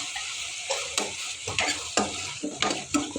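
Tomatoes frying in a pan for chutney, a steady sizzle broken by repeated stirring scrapes and clatters at an irregular pace, close and fairly loud, with no talking.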